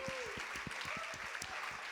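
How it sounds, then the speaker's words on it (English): Audience applause for TJ at a music conference panel: a short burst of steady, dense clapping from a crowd, fairly close and even in level. "I want everybody to give a round of applause to TJ for his success last year."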